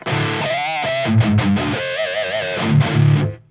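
A heavily distorted electric guitar through a tube amp with a Fryette PS-100 reactive load and attenuator plays a short phrase with bent, wavering notes, crunchy and saturated, then cuts off.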